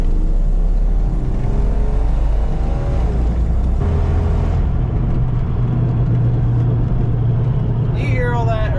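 A Jeep engine revs and rumbles while driving on the road, loud and continuous with a shifting pitch, road noise underneath and a brief squeal near the end.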